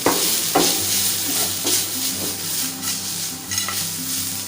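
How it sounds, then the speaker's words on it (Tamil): Ingredients for mango rice stir-frying in a pan, a continuous sizzle with repeated spatula scrapes and clinks at an even pace, fairly loud and near. "நல்லா கொஞ்சம் வேகிற அளவுக்கு நல்லா ஃப்ரை பண்ணிக்கணும்"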